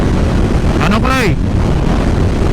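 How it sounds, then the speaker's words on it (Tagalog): Strong wind buffets the microphone outdoors, a constant low rumbling roar throughout, with a brief voice-like call rising over it midway. "Ang lakas ng hangin dito."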